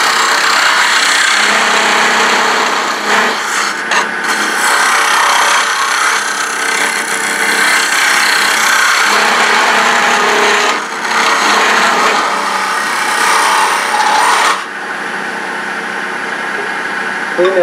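A detail carbide tool cuts into wood spinning on a lathe while turning a Christmas tree, giving a loud, steady scraping hiss with a few short pauses and shifts in pressure, with no talk.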